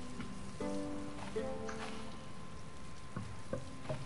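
Steady rain patters across a tropical island in the survival game Stranded Deep, a dense even hiss of drops with faint tonal game sounds layered underneath and a few brief clicks near the end.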